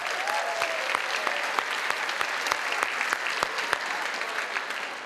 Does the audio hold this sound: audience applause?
yes